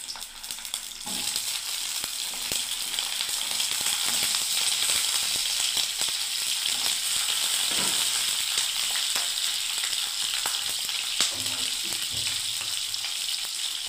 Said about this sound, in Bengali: হ্যাঁ তেল গরম হয়ে গেছে বন্ধুরা। এবার আমি সব পটলগুলোকে ছেড়ে দিচ্ছি।